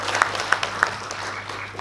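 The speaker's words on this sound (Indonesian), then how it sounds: "Tepuk tangan dulu itu Pak Kepling ini" Brief applause at a youth community talk, a few sharp distinct claps standing out over a softer wash of clapping, with a low steady hum underneath.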